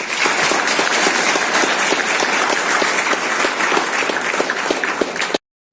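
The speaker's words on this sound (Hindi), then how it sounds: "जोरदार तालियों से स्वागत करें" A crowd at a school event claps loudly and steadily, a thick wash of hand claps lasting over five seconds that cuts off abruptly at the end.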